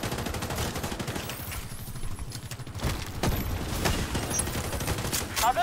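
Rapid bursts of automatic gunfire crackle through a shooter video game, dense fusillades with booming shots and brief pauses, while a player talks quietly beneath.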